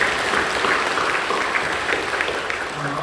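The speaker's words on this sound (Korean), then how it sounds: "박수로 격려해 주시죠" A church congregation at a Korean worship service bursts into applause, a dense, continuous clapping from many hands, loud and steady before tapering slightly at the end.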